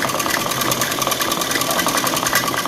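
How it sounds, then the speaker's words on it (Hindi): A sewing machine runs a straight line of long, loose basting stitches on a baby frock, its steady rapid whir continuous and close throughout with no talking. "ऐसे यहाँ से थोड़ी मोटी चाल की सिलाई लगा करके इसको स्ट्रेट सिलाई लगानी है"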